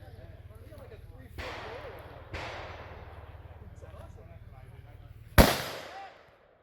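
Bolt-action rifle fired from a kneeling position at a shooting stage: three sharp, loud reports spaced a second or more apart, the last one nearest and strongest, over a steady low rumble.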